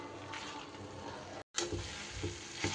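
A ladle stirs Malabar spinach curry with sweet potato, pumpkin and kasundi in a pan over a low gas flame, giving a continuous soft sizzle and scraping, briefly cut off before resuming.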